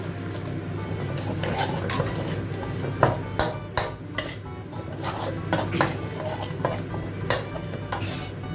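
Pork cracklings are stir-fried with curry paste in a pan, giving repeated sharp metallic clanks and scrapes of a spatula at an irregular rhythm over a steady low background hum.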